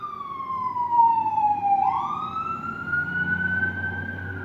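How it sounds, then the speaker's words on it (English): A fire engine siren sweeps past in a single loud, wailing tone that dips in pitch and then rises again, heard alone at close range with a low traffic rumble beneath it. "fire engine."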